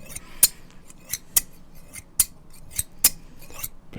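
Old-fashioned barbershop scissors snipping in sharp, isolated cuts, about eight crisp snips at an uneven, unhurried rhythm, close and clear against a quiet background.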